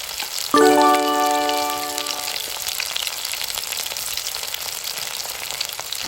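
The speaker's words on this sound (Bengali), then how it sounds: "আমার এখানে তেলের পরিমাণ কম এর জন্য আমি অল্প অল্প করে ভেজে নিচ্ছি" Flour-coated soya chunks dropped into a little hot oil, starting with a sudden loud sizzle and a brief ringing clang of the pan, then settling into a steady crackling fry.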